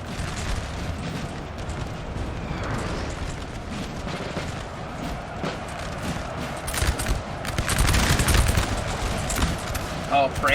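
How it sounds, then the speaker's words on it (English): Infantry lines fire musket volleys in Napoleon: Total War, a continuous crackle of massed shots that swells toward the end under steady battle noise, with a person talking over it. "Oh, France just got nice volleys off the flank."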